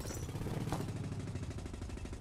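A mining drill grinds away in the digging game Underminer, a loud, continuous rattling churn with a fast pulsing texture and a brief bright clink near the start, heard alone.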